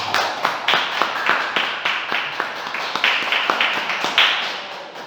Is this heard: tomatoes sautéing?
no